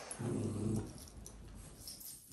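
A dog gives a short low growl at close range in a home, lasting under a second before fading into quiet room tone.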